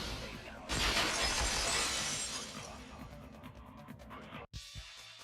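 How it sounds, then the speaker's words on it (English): Glass or a vase shattering in the Danganronpa 2 video game: one loud, sudden crash followed by a long, bright spray of scattering shards that gradually fades, ending with a brief cutoff and a faint final clink. "the girls heard the sound of the window shattering."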